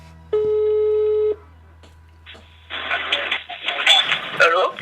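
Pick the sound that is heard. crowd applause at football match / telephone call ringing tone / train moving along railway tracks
telephone call ringing tone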